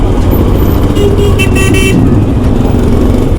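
Heavy road traffic stuck in a jam, with a loud, steady rumble of car and motorcycle engines close by and a few short horn toots sounding midway; no one speaks.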